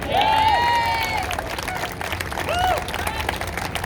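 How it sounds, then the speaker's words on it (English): A crowd applauds and cheers loudly, with whoops and whistles rising over the clapping, easing briefly, then swelling again near the end. "I think we could clap on that."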